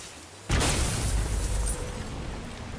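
A loud explosion blasting something apart in God of War, bursting in suddenly after a quiet moment and rolling on as a heavy rumbling roar that slowly fades.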